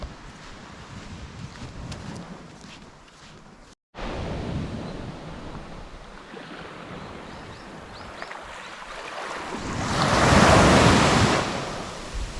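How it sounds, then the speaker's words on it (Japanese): Ocean waves on a beach at Iriomote Island, a steady wash of surf with wind buffeting the microphone, briefly cutting out once and swelling into a louder breaking wave near the end, no voices. "ここは星野リゾートさんの目の前のビーチなんですけれども"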